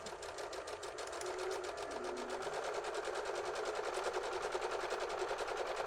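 A sewing machine chain-pieces half square triangle quilt blocks, its needle stitching in a fast, even rhythmic chatter that runs close and steady throughout, picking up slightly after the start, with no one talking.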